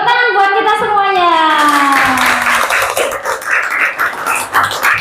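A class claps for itself during a fourth-grade lesson. A voice speaks at first, then a burst of quick, close hand clapping follows, uneven and a little scattered.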